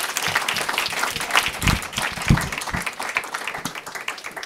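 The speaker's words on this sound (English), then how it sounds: "Let's have another round of applause for everyone's presentations." Audience applause after conference presentations on privacy and control, moderately loud clapping with individual claps standing out, swelling and fading unevenly over a few seconds.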